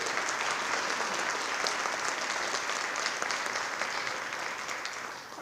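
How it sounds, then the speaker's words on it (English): Sustained applause from a large audience at a high school fall band concert, steady and dense clapping throughout before tapering slightly at the end. "And one more round of applause for all the students on stage."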